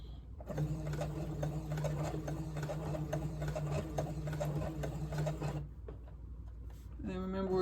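A sewing machine edge stitches a collar in a steady, close mechanical whir with a rapid rhythmic needle clatter, stopping briefly near the end before starting up again.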